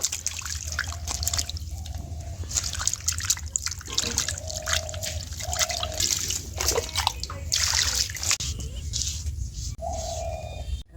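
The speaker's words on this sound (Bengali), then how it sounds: "মাছটা খুব ভালো করে 2-3 বার ধুয়ে নেব।" Fish pieces get rinsed in water in a kitchen, with continuous splashing, trickling and dripping close by under a low steady hum, and occasional tonal chirps from birds in the background.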